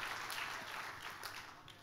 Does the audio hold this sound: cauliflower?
no